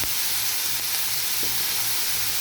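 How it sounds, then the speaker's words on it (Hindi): Loud, dense sizzling fills the pan as a little water is poured over onions frying in oil for a spiced fava bean dish, a steady hissing roar with no talking. "ये थोड़ा सा पानी इसमें डालेंगे ताकि हमारी प्याज ज़्यादा लाल ना हो"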